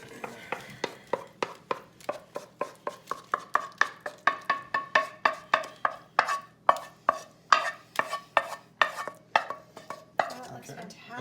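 A spoon scrapes and taps through thick three-ingredient Oreo fudge in a pan, a steady series of short, crisp knocks and scrapes at a brisk, regular rhythm, close up with no voices.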